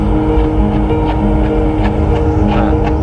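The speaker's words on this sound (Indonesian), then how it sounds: "Lalu ada suara perkotaan." City ambience played as a Sounds of Nature option in a Hyundai Ioniq 6 electric sedan: a steady traffic-like hum with sustained tones and scattered faint clicks, continuous and moderately loud.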